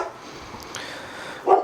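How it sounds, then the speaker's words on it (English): A single short dog bark rings out near the end against a quiet background, at moderate distance, with no other activity around it. "Oh, these dogs."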